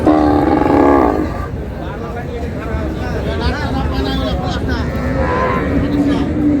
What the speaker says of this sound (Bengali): আর আমরা দেখছিলাম এখানে একটি গাভী বাছুর দেখছেন,